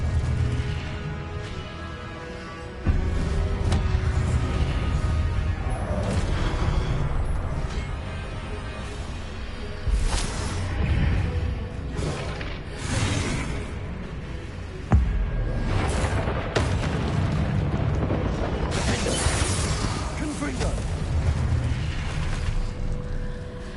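Fire spell explosions from Hogwarts, the video game, several loud booming bursts around 3, 10 and 15 seconds amid continuous clattering game sound and magical effects.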